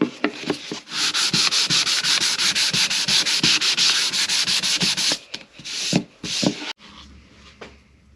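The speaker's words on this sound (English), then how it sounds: "I'm gonna take the orbital sander to it and sand everything and kind of round all the edges over." An orbital sander works over a small wooden cutting board to smooth and round its edges, a loud close gritty buzz pulsing in rapid strokes, briefly pausing and restarting near the end.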